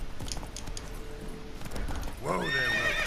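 Horse in The Witcher 3 video game: hooves clopping under ambient game sound, then a loud, close whinny rising and falling over the last second.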